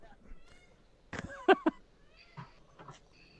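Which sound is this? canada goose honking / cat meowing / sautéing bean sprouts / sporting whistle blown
cat meowing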